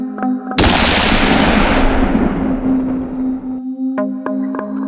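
A single sharp, loud gunshot-like blast bursts in and decays over about three seconds, with a steady low tone underneath and faint rhythmic clicks before and after.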